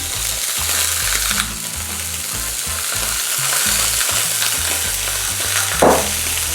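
Red mullet fillets fry skin-side down in a pan with a loud, continuous close sizzle, broken by occasional scrapes and a sharp clatter near the end, no speech.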